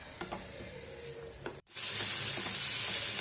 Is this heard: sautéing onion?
yes